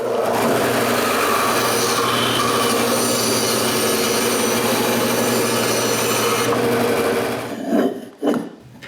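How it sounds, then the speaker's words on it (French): A band saw rips steadily through a piece of walnut for a clock frame, giving a continuous loud rasping buzz for about seven seconds before the blade clears the wood and the motor winds down with a few thumps. "Je coupe ce que j'en trouve là, avec le ruban."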